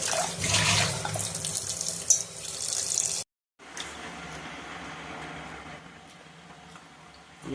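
Tap water runs steadily over soaked dried seela fish being rinsed in a sink, a broadband gush for about three seconds, then a brief gap before softer trickling and splashing continue; no talk.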